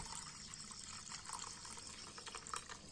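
About a liter of water poured into a homemade fertilizer mixture, a faint continuous trickling splash with small gurgles, quiet and close, with no talking.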